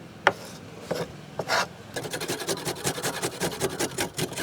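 Fresh ginger rubbed against a grater for Kerala parippuvada, the crisp lentil fritter: a few scattered scrapes, then a steady run of quick, close rasping strokes in an even rhythm.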